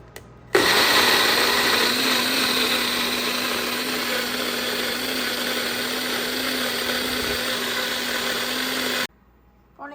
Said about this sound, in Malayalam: ഞാൻ കുറച്ച് വെള്ളം കൂടെ ചേർത്താണ് അരയ്ക്കുന്നത്. അപ്പോൾ ഇതെൻ്റെ റോക്കറ്റ് മിക്സിയാണ്.